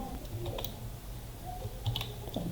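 Soft, irregular key clicks of typing on a computer keyboard, fairly close, with faint background noise and no talking.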